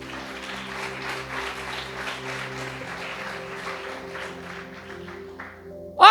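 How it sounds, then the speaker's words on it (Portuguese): A church congregation at a Baptist service applauds, a dense continuous clapping sound with sustained organ or keyboard tones beneath, ending with a short louder burst. "Pode aplaudir Jesus."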